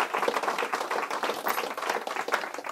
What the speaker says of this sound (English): Let's have a big round of applause for Jesse and for John.